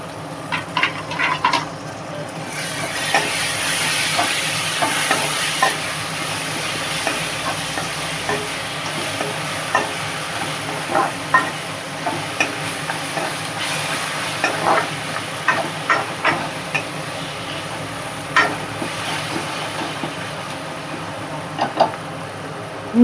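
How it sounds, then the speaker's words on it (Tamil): Ginger garlic paste sautéing in a pan for Chennai-style vada curry, a steady close sizzle and hiss with repeated scraping stirs clicking against the pan throughout. "இஞ்சி பூண்டு பேஸ்ட்டு பச்சை வாசனை போகிற வரைக்கும் வதங்கட்டும்."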